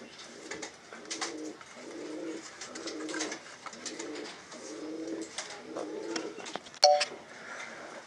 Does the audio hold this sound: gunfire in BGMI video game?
no